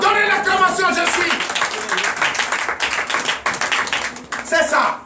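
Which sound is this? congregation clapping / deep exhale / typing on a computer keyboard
congregation clapping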